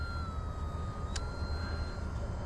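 Arrows Bigfoot 1.3m STOL radio-controlled plane on a 3S battery flying overhead, its electric motor giving a steady, fairly distant whine over wind noise, with one brief louder blip partway through.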